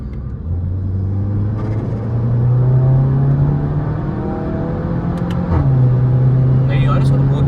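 Skoda Octavia vRS engine pulling hard while driving, a steady loud rumble climbing in pitch through the revs, a brief dip around a gear shift, then rising again, with someone speaking at times.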